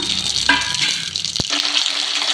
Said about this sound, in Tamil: இதில் எண்ணெய் பார்த்திங்கன்னா லைட்டாக சூடேறிச்சு கடுகு போட்டுக்கலாம்